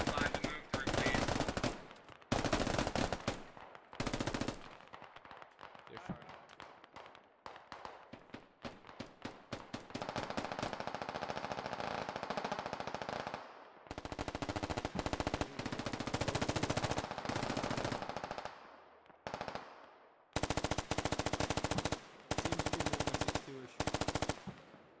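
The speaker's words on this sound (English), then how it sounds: "Need that suppressing fire. You've got an MG and an LMG." Machine gun and light machine gun suppressing fire in a military video game: long, loud, rapid automatic bursts with short pauses and near-constant gunfire, clipping at full level, with occasional talk underneath.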